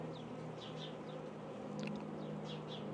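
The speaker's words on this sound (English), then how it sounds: "there's just so many bees in here" Honey bees hum inside an open beehive during a hive inspection, a steady low drone filling the whole stretch, with faint chirps and clicks over it and no talk.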